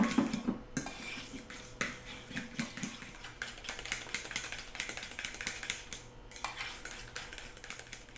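Deviled egg yolk filling is mashed and whipped in a bowl, a utensil clicking and scraping rapidly against the sides in quick irregular taps, close and fairly quiet.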